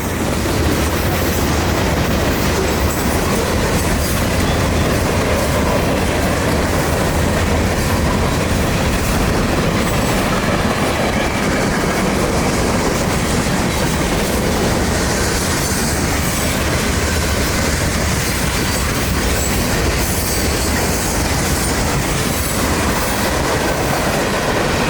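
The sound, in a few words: CSX SD70 freight train 727 passing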